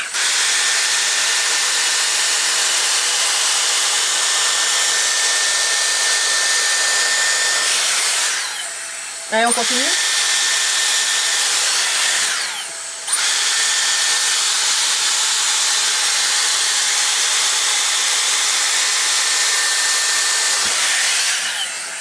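A Dyson Airstrait hair dryer blows a loud, steady stream of air, with a constant whine running under the rush. The airflow cuts out briefly twice, and a voice speaks quickly during one of the pauses.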